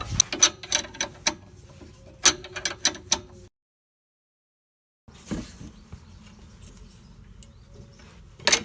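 A ratchet tightens the nuts on the rear sway bar end links of a 1992-1996 Toyota Camry, making quick clicking bursts up close, then a short silence before faint, sparse clicks resume.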